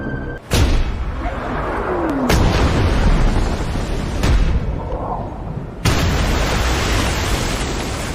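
Villagers' boats explode on an island shore. Loud, sharp blasts hit at irregular intervals, each followed by a dense rumbling roar that fills the whole span without letting up.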